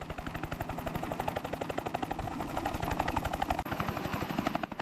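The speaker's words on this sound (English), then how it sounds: "The sound of rotors signaled that help was finally arriving." Rescue helicopter rotors arriving over a cruise ship damaged at sea, a loud, steady, rapid chopping that stays close and dominant throughout.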